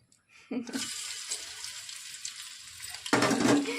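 Oil is poured into a pot for chicken dum biryani, a short pouring splash followed by a close hissing sizzle that suddenly flares louder near the end, with no speech.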